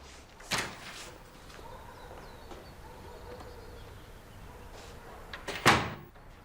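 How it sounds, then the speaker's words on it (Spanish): A door opening with a latch click and knock near the start, a quiet stretch of room noise, then a louder clunk or bump near the end, with no voices. "Abre la puerta."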